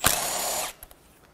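A power tool spins a bolt on a Mercedes M276 bi-turbo V6 engine from a C43 AMG, a loud close whirring burst lasting under a second, followed by a couple of faint clicks.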